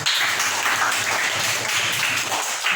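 A classroom of students bursts into applause, a dense, steady wash of many hands clapping at once, close and loud for a few seconds with no clear speech over it.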